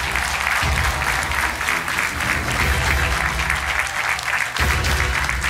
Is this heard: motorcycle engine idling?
no